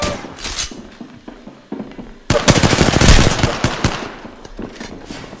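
Automatic gunfire from the video game Apex Legends: a few scattered shots, then a loud, dense burst of rapid fire that tapers off, with no talk over it.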